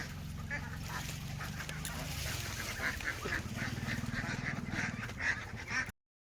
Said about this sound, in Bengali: সব একই সাইজের হাঁস।